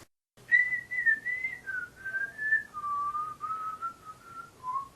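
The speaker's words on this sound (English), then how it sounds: "and began whistling." A person whistles a slow, wandering tune in one continuous sequence of clear, close notes, alone with no talk.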